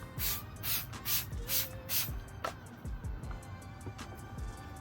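Tire cleaner is sprayed onto a vehicle tire in a quick series of close hissing trigger bursts, five or six in a row, followed by quieter rubbing and ambient sounds.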